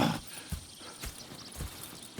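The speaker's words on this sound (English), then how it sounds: "Go check the horses are ready." Horses in the video game Red Dead Redemption 2 step with crisp clip-clop hoofbeats at an even pace, about two per second, close and clear with little else around.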